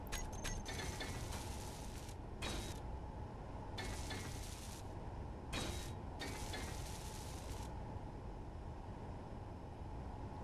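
Welding a ship projection in the Space Engineers video game: a steady mechanical grinding drone with bursts of bright hissing crackle that start and stop several times, no voices.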